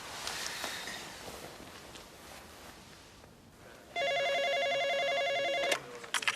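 A telephone rings with a steady electronic trill, loud and near, after a stretch of quiet room noise; the ringing continues for about two seconds and then cuts off.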